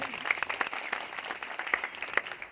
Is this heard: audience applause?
yes